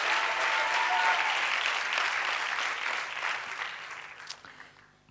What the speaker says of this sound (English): Go ahead and clap and rejoice for just a moment